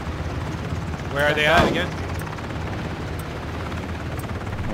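A helicopter in the Ring of Elysium video game gives a steady droning rotor rumble throughout, with a brief louder burst near the start and a player speaking over it.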